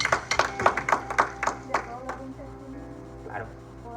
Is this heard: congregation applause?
yes